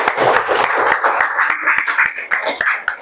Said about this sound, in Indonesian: Kasih tepuk tangan untuk grup 3